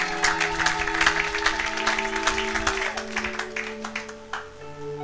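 A church congregation applauds at a French-language service, with dense, sustained clapping and crowd noise over a held organ or keyboard tone that tapers toward the end.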